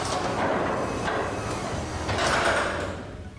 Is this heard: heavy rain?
no